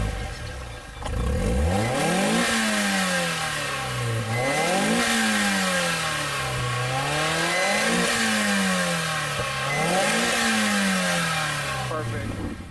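A Mazda Miata NB engine revs repeatedly, rising and falling in pitch in a steady rhythm of several blips after an initial climb, loud and close.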